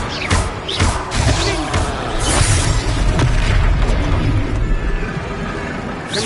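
A Confringo explosive spell blasts in Hogwarts Legacy, a loud, dense booming rumble with crackling bursts that fills the whole stretch, mixed with game sound and music.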